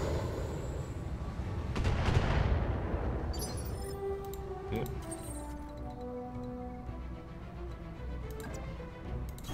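Long-range missiles fired in the Battletech game: a rumbling launch burst swells and fades, followed by a sustained mechanical hum with scattered metallic ticks and clicks, and no talking.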